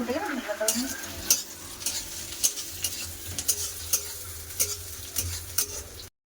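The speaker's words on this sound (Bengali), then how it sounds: "পেঁয়াজটা ভাজা হচ্ছে" Onions for dal sizzle in a hot pan while a utensil scrapes and taps the metal in an irregular stirring rhythm, close and fairly quiet.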